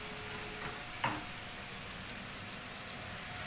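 Mushrooms fry in a pan with a quiet, steady sizzle and one brief clink of stirring, with no talk.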